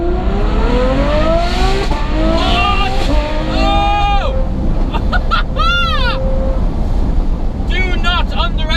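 Ferrari F12 Berlinetta with Novitec N-Largo kit, V12 engine heard from inside while driving, rising revs and downshift blips sweeping up and down over heavy wind and road rumble, loud and close.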